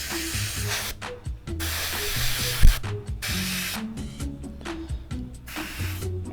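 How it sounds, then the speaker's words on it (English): Spray painting a model F4U Corsair, short hissing bursts of airbrush or aerosol paint separated by brief pauses, close up, with faint clicks and handling noises between sprays. "just doing some little sprays off the camera"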